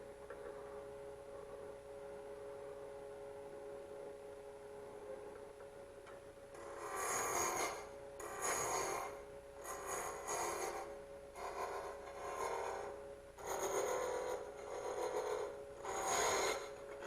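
A skew chisel wastes away wood at the front end of a turning on a lathe. After a quiet hum of the running machine, rough rasping cuts arrive in several short bursts, close and moderately loud, with no talking.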